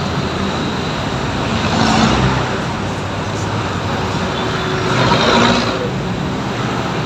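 Road traffic near Metro East flows past a cyclist in a continuous roadway rumble, swelling twice as nearby vehicles pass close by.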